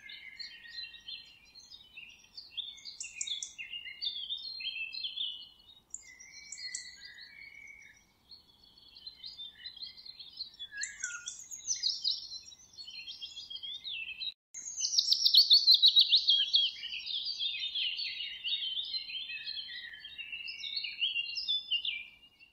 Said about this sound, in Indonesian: kicauan suara burung yang saling bersahut-sahutan